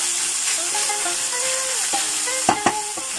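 Vegetables sizzle in a pan while being stir-fried, a soft steady frying hiss broken by a few sharp clacks of the utensil against the pan near the end, with faint tonal sounds in the background.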